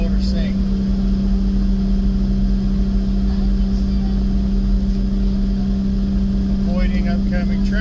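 Toyota Tacoma engine held at steady high revs after a downshift to third gear climbing uphill, a loud constant drone with a strong low hum, while a driver talks briefly over it.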